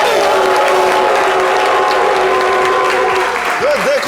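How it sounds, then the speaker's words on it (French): A studio audience applauds and cheers for a guest on a French-language talk show, with loud, sustained clapping, crowd noise and a voice carrying over it, plus a tonal music bed. "Et ça s'applaudit, s'il vous plaît."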